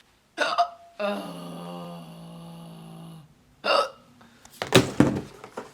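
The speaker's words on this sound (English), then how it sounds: "I'm having a hiccup attack and I just sat down to film." A woman's hiccups come as several sharp, sudden bursts, one early and a quick cluster near the end, close and fairly loud, with a sustained vocal tone between them.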